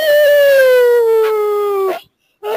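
A wolf in the video game WolfQuest lets out a single loud, long howl that slowly falls in pitch and cuts off into silence, with a faint sound returning at the very end.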